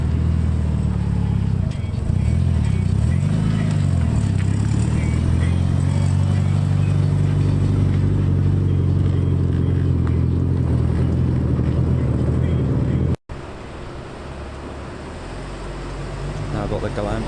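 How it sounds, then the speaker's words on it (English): A red Mitsubishi Evo 8 on Enkei wheels leaves a Japanese car show, its engine rumbling close by with low revving swells over crowd noise, then a sudden break followed by quieter ambience. "Red Evo 8 on Enki wheels is now leaving as well."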